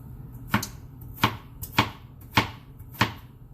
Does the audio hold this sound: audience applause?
no